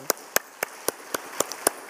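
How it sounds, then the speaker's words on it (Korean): Sharp, separate claps ring out in a church at a steady pace, roughly eight in under two seconds, crisp and fairly close against a quiet background with no talk. "뜨거운 박수로 격려하십시다."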